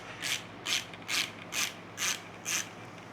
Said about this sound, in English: grab the 10 millimeter and let me get this bolt loose